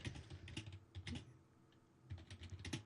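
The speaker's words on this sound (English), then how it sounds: "I'm sure you keep typing and typing and typing" Close, quiet typing on a computer keyboard, with bursts of rapid key clicks separated by short pauses.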